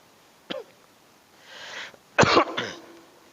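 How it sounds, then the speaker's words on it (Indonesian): Someone with a lingering cough during a religious lecture lets out one short cough, pauses, then gives a louder burst of two or three harsh coughs close to the microphone, with no talking. "Batuknya ini nggak sembuh-sembuh Pak."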